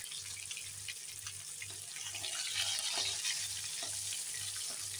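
Rohu fish fry in a pan with a constant crackling sizzle and a rhythmic low pulsing underneath, steady and close, with no talk.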